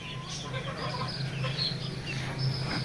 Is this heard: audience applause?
no